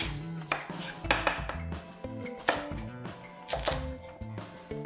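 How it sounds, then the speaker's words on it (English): A knife chops large carrots into chunks on a cutting board in quick, uneven strokes, each thud crisp and close. "And just chopping it into these large chunks."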